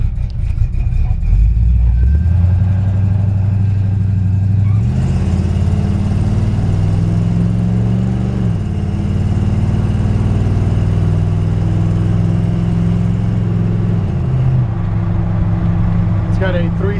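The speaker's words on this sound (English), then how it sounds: "This is a 1965 Ford F100. And we'll take it for a quick drive" A built 1965 Ford F100 truck with a 360 V8 and automatic transmission drives off. Its loud, rumbling engine climbs in pitch through several shifts and stays close and steady throughout.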